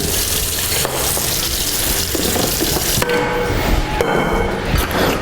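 Tap water running for a quick rinse in a kitchen sink, a loud continuous gush with brief splashes and clatter near the end.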